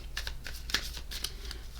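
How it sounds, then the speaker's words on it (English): Tarot cards are shuffled softly and close by in quick, repeated riffling bursts at a low level, with no voices. "as I shuffle the cards"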